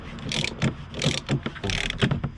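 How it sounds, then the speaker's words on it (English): A heavy-duty coil spring compressor for a Fiat Panda 4x4 suspension is ratcheted, a series of close, sharp clicking bursts in a quick uneven rhythm. "This is a very beefy coil spring compressor set."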